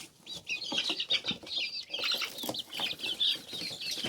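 A flock of chicks and chickens clucking and chirping busily while pecking at greens, a dense, steady chatter of close, overlapping calls with faint wing flutters, no talk.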